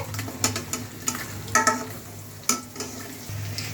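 A spoon stirs a milk sauce with peppers in a pan for cheese pasta, with repeated scraping clinks and soft bubbling over a low simmer, close and moderately loud.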